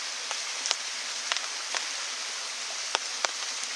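Rain patters onto a tarp over a forest bivouac, a constant soft hiss broken by several sharp, louder drips landing close at irregular moments, with no talking.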